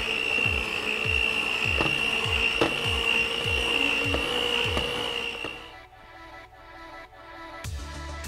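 Electric mixer whirring through frosting tinted with green food coloring, a steady high motor whine with rhythmic knocking of beaters against the bowl, cutting off partway before a single knock near the end.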